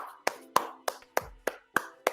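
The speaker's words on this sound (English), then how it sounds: "Round of applause to you." A slow, steady round of clapping, about eight sharp hand claps at an even pace, close and fairly quiet with no talk over them.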